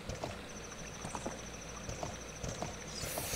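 Horse hooves clip-clop in Ocarina of Time, a light, steady patter of clops in a quiet game scene with a faint sustained tone running above.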